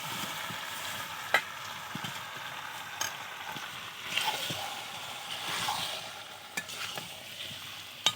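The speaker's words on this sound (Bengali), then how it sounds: "আলু ভাজাটা দিয়ে কষিয়ে নিতে হবে।" Fried potatoes stirred into chicken curry in a pan: a quiet, steady sizzle with intermittent scraping strokes of a spatula, close by and with no talk.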